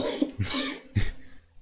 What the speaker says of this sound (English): keep getting worried when I hear you cough like that